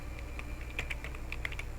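Quiet, quick keystrokes on a computer keyboard during a basic web programming session, a short irregular run of light clicks over a faint low hum.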